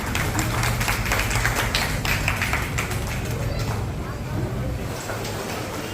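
An audience at an evening musical tribute concert applauds, dense rapid clapping filling the hall with a steady roar that slowly thins toward the end, with some voices mixed in.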